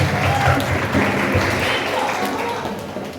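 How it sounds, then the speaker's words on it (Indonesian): A dense wash of audience applause at an outreach session, steady and sustained from start to finish, with voices mixed into the clapping. "boleh tepuk tangan buat kita semua"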